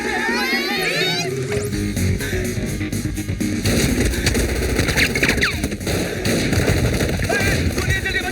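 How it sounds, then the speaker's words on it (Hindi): Gunfire rings out in a Hindi comedy film scene, repeated sharp shots and crackling bursts layered under loud, frantic shouting voices and busy background sound. "गोलियां चल रही है, बचाओ बचाओ भाई साहब"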